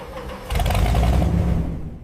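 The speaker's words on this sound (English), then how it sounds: "The truck runs on 4 diesel engines, each powering a wheel set." A giant truck powered by four diesel engines, each driving a wheel set, rumbles with a deep, loud engine roar that swells after a brief lower idle and holds steady at close range.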